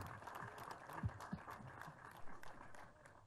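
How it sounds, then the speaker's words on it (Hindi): Faint applause from an audience at a Bollywood film press conference with director Rohit Shetty, a brief patter of scattered clapping heard at a distance amid room murmur. "तालियां बज गई सर, नाम लेते ही।"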